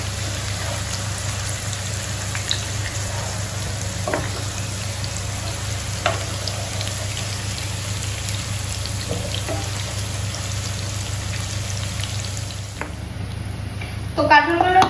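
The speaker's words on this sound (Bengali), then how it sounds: "কাঁঠালগুলো বেশি ফ্রাই করবো না, জাস্ট একটুখানি ফ্রাই করবো।" Jackfruit pieces frying lightly in hot oil, a steady close sizzle with occasional stirring clicks and a brief clatter near the end.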